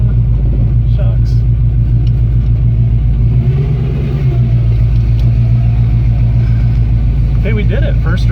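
Ford Mustang with a 351W V8 engine, driven after ten years of neglect, gives a loud steady low rumble from inside the car, with people talking over it.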